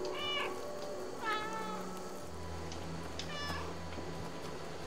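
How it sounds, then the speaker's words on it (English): Three short cartoonish cat meows in the video game Stray, spaced a second or two apart over a steady background hum and music. "Press B to meow."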